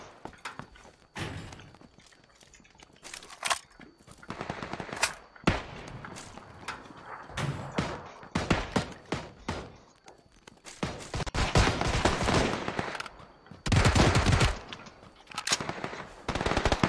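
Bursts of automatic gunfire in PUBG, loud sharp volleys coming in irregular clusters with gaps between, some close and some more distant, with occasional thuds and no speech.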